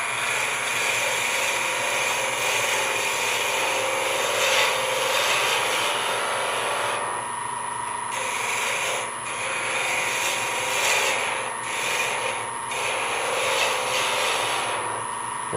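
A wood lathe spins a pen blank for a Wall Street II pen kit, a constant motor hum and whine under a gritty scraping of the cutting tool against the wood, which rises and drops in uneven strokes as the cut is taken slowly.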